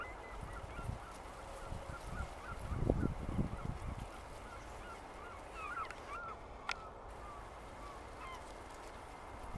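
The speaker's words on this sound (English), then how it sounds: "The seagulls are going crazy." Gulls call faintly and repeatedly over a harbor breakwater, scattered distant cries across a low wind-like background, with a brief louder rumble early on.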